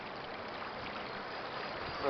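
Steady rushing water of a waist-deep stream being waded across on foot during trout fishing, a dense continuous wash up close with no clear voice over it.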